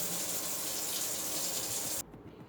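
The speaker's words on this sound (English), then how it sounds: "I rinsed them with water, tap water" Cold tap water runs steadily into a sink while eggplant slices are rinsed, a continuous close splashing rush that cuts off abruptly near the end.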